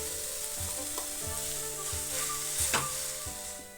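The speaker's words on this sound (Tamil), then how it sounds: "இப்போ நம்ம அரைச்சி வச்சுருந்த மசாலாவை சேர்த்து ஒரு 5 நிமிஷம் வதக்கிக்கலாம்" Beetroot and ground masala sautéing in a pan, a constant soft sizzle and fry with occasional stirring scrapes and knocks, close by and fairly quiet, with no talk.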